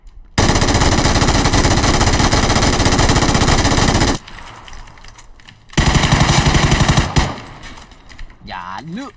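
Sustained automatic gunfire in the battle royale game PUBG, a dense continuous rattle of a rapid-firing gun that stops abruptly, followed by a quieter stretch and another long burst, loud and close, with a voice and effects near the end.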